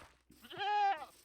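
A goat bleats once in Minecraft, a clear, loud, drawn-out nasal cry rising from quiet surroundings, with no talk over it.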